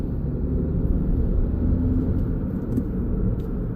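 Inside a 2018 Suzuki Ignis 1.2 Dualjet SZ-T with 81k miles, accelerating in third gear near the M1: a smooth, even low engine and road rumble that holds steady throughout, with no voices.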